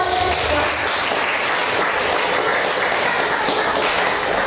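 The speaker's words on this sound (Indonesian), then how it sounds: "Tepuk tangan." An audience claps loudly and continuously at a Mother's Day gathering, a thick, even roar of applause from a crowd with a few voices buried in it.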